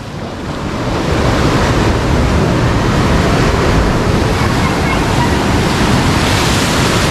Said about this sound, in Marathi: लाटा बघा कसल्या उचलतात